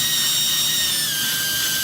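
A power drill driving a 1/4-28 tap through an A-arm bushing for a grease fitting, giving a loud, steady high whine that slowly drops in pitch as it bites, close up with no talk.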